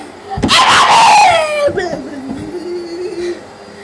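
A video game dog gives a sharp, high yelp that slides downward into a drawn-out whimpering whine, loud and close, fading to a low moan.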